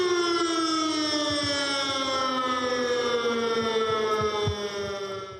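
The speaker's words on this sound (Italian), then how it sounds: "Questa sirena è un grido d'allarme." An alarm siren sounds at a shopkeepers' protest in Padova, Italy, holding a loud, steady wailing tone with slowly falling pitch, alone and close throughout.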